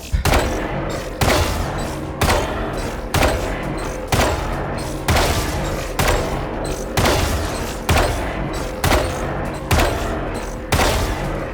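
Sharp single gunshots ring out at an even pace in VALORANT, a shot at a pillar followed by shots at practice bots, about a dozen loud close cracks each trailing a brief echo.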